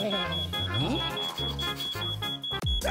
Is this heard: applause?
no